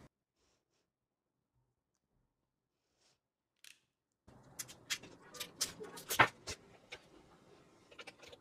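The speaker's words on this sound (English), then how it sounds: "I'll just put in the batteries." Quiet at first, then a run of small plastic clicks and snaps up close as batteries are fitted into a Fujifilm Instax Mini 11 camera's battery compartment.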